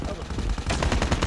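Rapid automatic gunfire from a Call of Duty Mobile match, a dense burst of loud repeated shots that grows busier in the second half.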